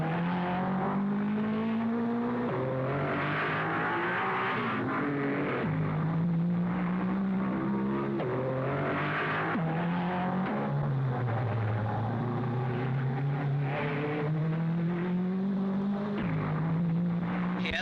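1955 Mercedes racing cars lapping slower cars at the Monaco Grand Prix on the street circuit, with engines repeatedly rising and falling in pitch as they accelerate and pass, loud and continuous with overlapping roars.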